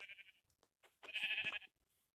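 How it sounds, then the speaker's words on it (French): Sheep bleating in a survival video game: a short bleat followed by a longer, louder wavering bleat, close and clear with no talking. "c'est pour ça que je chasse des moutons"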